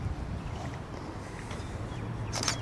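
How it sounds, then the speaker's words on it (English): Cold wind blowing across a town square by the courthouse in Cameron, Texas: a steady low rumble buffeting the microphone, fairly close and continuous, with a brief brighter rustle near the end and no speech. "that wind's cold. That wind is so cold"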